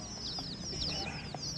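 A turkey gives soft clucks and short chirping calls in a rural yard, a few brief notes over faint background noise at moderate distance.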